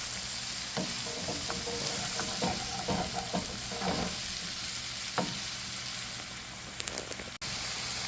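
Sweet peppers, carrot and other vegetables frying in a pan, a steady close sizzle with scattered crackles and occasional stirring clatters throughout, no talking.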